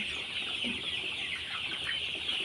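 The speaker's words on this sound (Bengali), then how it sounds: "বড় মুরগিগুলো দেখেন, এই ছোট মুরগিগুলো সুস্থ দৌড়াদৌড়ি করতেছে।" Sonali chickens on a poultry farm, a dense chorus of soft clucks and chirps from many birds, continuous and moderately close, with no talking.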